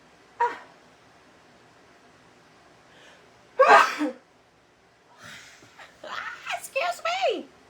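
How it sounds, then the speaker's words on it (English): A person with allergies sneezes loudly and sharply once, preceded by a brief gasp, then quietly starts talking afterward. "I'm gonna sneeze again."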